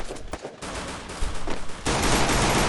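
Gunfire in Free Fire: a ragged run of rapid shots that gives way to a dense, loud sustained burst near the end, close and harsh with no talk over it.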